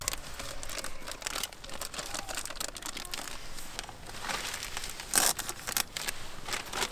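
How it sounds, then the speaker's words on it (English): A plastic gallon bag being torn open, a steady crinkling and rustling of plastic that goes on throughout, close and fairly loud, with a sharper burst of tearing near the end. "I'm just going to tear it open and leave most of it on the gallon bag"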